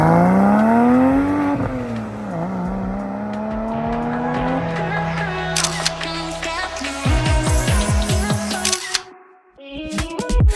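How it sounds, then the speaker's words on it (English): A Porsche 986 Boxster S drives past on a street, its engine note rising and falling as it passes, with a camera shutter clicking rapidly in rapid bursts partway through and a short quiet gap near the end. "now my brother's going to drive my Porsche"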